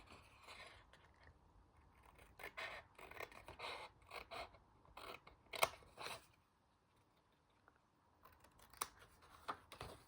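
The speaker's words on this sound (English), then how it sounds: "So we're going to just cut along that score line and up that score line." Paper being cut along score lines for a single-sided paper ephemera holder, heard as quiet, intermittent snipping and scraping strokes in short bursts with pauses, close and faint, with no talking.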